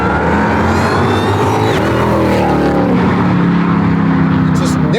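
A sports car accelerating hard from inside the cabin, its engine note rising loud and continuous with harmonics sweeping upward through the gears.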